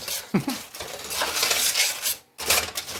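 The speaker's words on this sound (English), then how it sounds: "so you don't have to hear me scraping all this around" Metal scraping and clinking against a pan as candied nuts are stirred, a busy continuous rasp with a few sharper knocks, close up, briefly pausing near the end.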